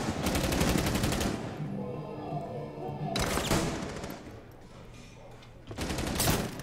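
Bursts of rapid gunfire in Rainbow Six Siege, loud dense volleys in three separate bursts with quieter game noise between them.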